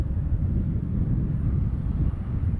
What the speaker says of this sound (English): There's just so much headwind right now